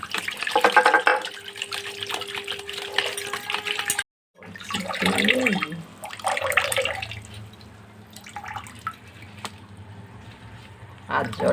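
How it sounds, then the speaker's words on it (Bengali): Water runs from a kitchen tap into a bowl during cooking, a steady splashing hiss that stops briefly and then resumes with clattering dish sounds mixed in. "এবারে কল চালিয়ে দিলাম"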